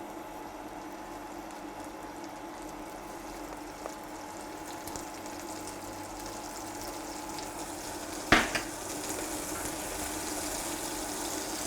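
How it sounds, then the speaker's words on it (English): Garlic butter sizzles faintly in a pan as a sauce base for pan-seared prawns with mascarpone, a low, steady crackle broken by one sharp knock near the end. "We can add some garlic butter to the pan."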